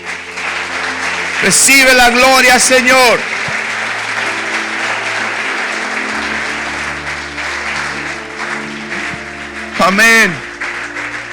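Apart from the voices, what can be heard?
applause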